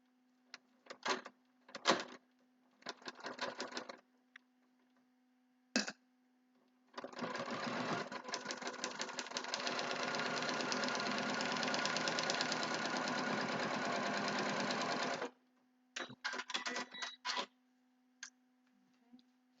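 A domestic sewing machine stitches foundation paper pieced spool blocks, a few short whirring bursts, then one long steady run of rapid stitching lasting several seconds, then more brief stop-start bursts, all near and clear.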